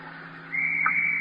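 A coach's whistle signalling a rowing crew sounds as one sharp, sustained shrill blast rising midway and holding to the end, fairly faint over a low background hum.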